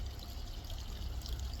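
Water pumped from a pond skimmer by a 16,000 litre pump pours steadily over a garden pond water blade, a brief continuous splashing trickle.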